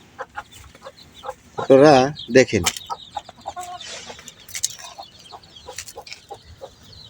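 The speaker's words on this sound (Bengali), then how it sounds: "খাবারগুলা মুরগিকে আমি দিই" Chickens on a rooftop farm cluck and squawk at feeding time, several loud calls bunched together near the start amid scattered pecking noises, while a person talks over them.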